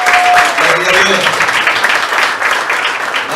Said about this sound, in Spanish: ¿Cuánto le dan un aplauso a nuestro Dios?